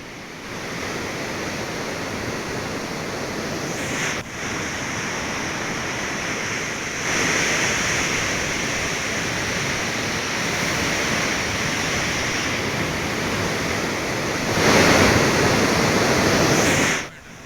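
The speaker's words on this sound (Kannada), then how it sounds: "ಸದ್ಯ ಭೀಮಾ ನದಿ ತುಂಬಿ ಹರಿತಾ ಇದೆ" The Bhima river in Afzalpur taluk, Kalaburagi, runs in full flood after a 65,000-cusec release from Ujjani dam, making a steady, loud broadband wash that swells slightly in places, with wind buffeting and no voices.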